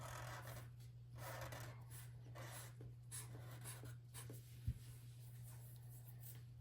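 A pencil or marker scratches textured lines on paper while a Christmas robot is drawn, leaving soft, repeated rasping strokes over a low steady hum, quiet and close, with no talking.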